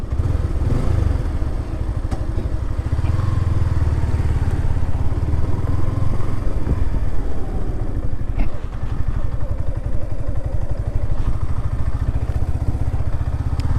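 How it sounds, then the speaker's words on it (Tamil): Yamaha R15 M motorcycle engine and exhaust running steadily and loud throughout, a continuous low throbbing drone with some mechanical clatter, close to the listener, with no voices. "எக்ஸாஸ்ட் நோட்டில் செம்ம சூப்பராக இருக்குங்க"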